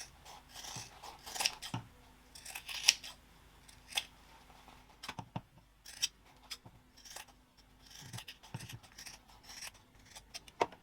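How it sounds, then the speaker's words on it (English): Scissors trim the side seams and clip the corners of a sewn fabric wallet panel, giving a series of close, crisp snips in irregular bursts with short pauses, no talking. "now I'm going to trim back those seams to half and clip the corners."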